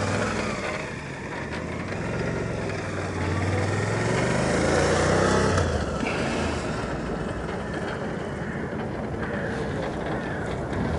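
Motorcycle engine running on a Skidbike training device, the rear raised so the electronics act up, giving a steady close hum with a slowly shifting pitch and a brief rise in loudness midway, with no talking.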